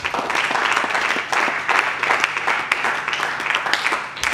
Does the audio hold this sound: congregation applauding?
yes